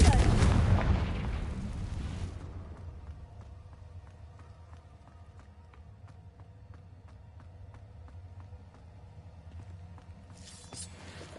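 A Confringo blast spell goes off in a Harry Potter video game, a loud booming explosion that decays over about two seconds into a quiet rumbling game ambience with faint ticking, before a brief burst returns near the end.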